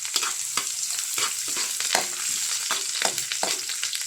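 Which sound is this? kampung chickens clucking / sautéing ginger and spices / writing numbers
sautéing ginger and spices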